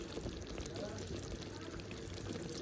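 Lemon juice trickling into a simmering rohu fish curry, a soft continuous pour and dribble heard close under someone speaking.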